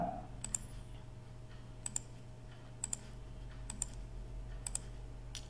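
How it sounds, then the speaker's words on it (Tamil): Soft, faint taps on an Android phone's on-screen keyboard while entering Tamil in Thanglish, about seven isolated clicks spaced roughly a second apart over a low steady hum. "இதில் வந்து வணக்கம் சொல்லிட்டு டைப் பண்ணுறேன்."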